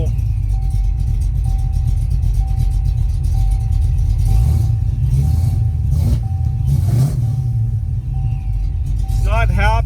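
A 1986 Ford Mustang Fox body, 38 years old, with a suspected ignition fault, runs roughly at a loud steady rumble with a faint whine and uneven surges, while someone talks over it.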